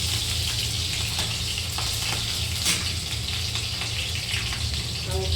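Garlic and green chili frying in plenty of hot oil, a loud, dense crackling sizzle that runs steadily throughout with small spatters and pops, close up and without speech.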